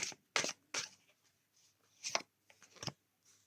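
Tarot cards being handled and shuffled during a reading, giving a series of crisp, papery snaps and flicks in irregular bursts, close and fairly quiet, with no talking.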